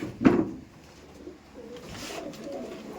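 Giribaz pigeons in a room coo: one close, low coo near the start, then softer cooing and rustling from the birds with no talk.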